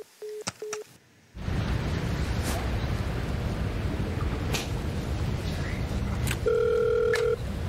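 A telephone gives a short double ring over silence, then a steady wash of noise follows with a few clicks. A sustained electronic tone rises near the end, like a phone line in a comedic meme call.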